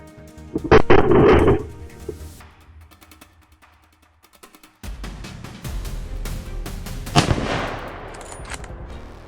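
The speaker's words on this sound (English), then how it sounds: "When the animal reached the open gap, fully visible, he squeezed the trigger decisively" Sharp, loud rifle shots ring out during a hunt in deep forest, with a cluster of cracks early on, a quieter gap, then further impacts and rustling activity nearby.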